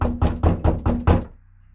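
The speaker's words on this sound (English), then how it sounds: "someone began to knock on our door" Six firm, evenly spaced knocks strike a front door, loud and close, followed by stillness.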